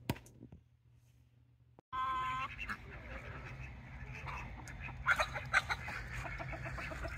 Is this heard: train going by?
no